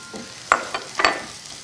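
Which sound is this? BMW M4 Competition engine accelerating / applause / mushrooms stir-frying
mushrooms stir-frying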